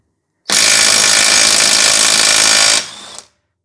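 A Makita impact wrench loosens car wheel lug bolts, running in one loud continuous burst of about two seconds before winding down into a brief softer tail, close up with no talking.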